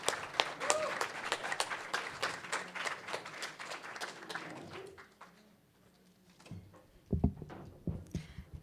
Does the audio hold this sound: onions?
no